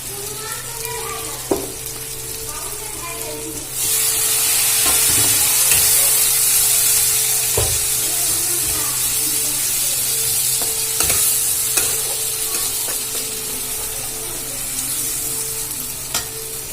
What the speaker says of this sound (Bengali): দিয়ে আবার একটু জল দিয়ে ভালো করে ভেজে নেব।